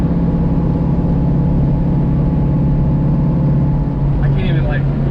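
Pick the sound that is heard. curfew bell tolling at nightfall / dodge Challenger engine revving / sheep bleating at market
dodge Challenger engine revving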